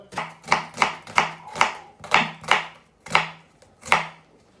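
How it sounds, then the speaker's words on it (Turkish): A knife finely chops onions on a cutting board, about ten crisp strokes in an even rhythm, close and alone. "Soğanlarımızı ince doğrayacağız."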